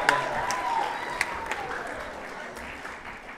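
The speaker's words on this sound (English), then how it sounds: "Let's give this man a great round of applause." Audience applause greets a speaker at a youth councils event in Sydney, a moderate wash of clapping with a few sharper claps standing out and faint voices mixed in.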